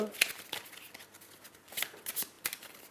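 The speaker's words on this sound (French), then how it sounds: "on intensifie, ça veut dire qu'on va mélanger la défausse" Pandemic Legacy discard cards being shuffled by hand at a board game table, several quick riffling bursts close by, with talk around them.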